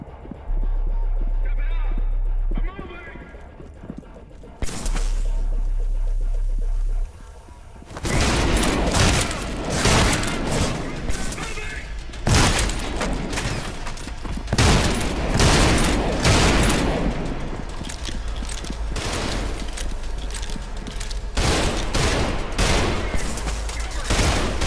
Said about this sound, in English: One more shooting, more killing.